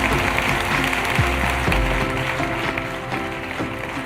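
A crowd at a political conclave applauds as a Union Minister takes the stage, a dense, steady clapping that stays fairly loud, close and continuous for the whole stretch, with no voices standing out above it.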